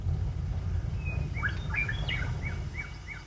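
Several birds chirp in the Oregon desert among sagebrush, a series of short rising tweets and trills repeating at moderate distance over a steady low rumble.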